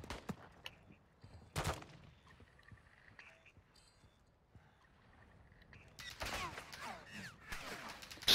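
Gunfire in Call of Duty: a single sharp burst, then a dense run of rapid shots toward the end, fairly distant and quiet against a low background.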